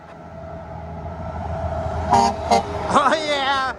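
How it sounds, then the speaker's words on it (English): A passing semi truck blasts its air horn over the rumble of road traffic. Two short toots come first, then a longer, louder honk, close and strong. "Let me see if I can get this semi to honk his horn."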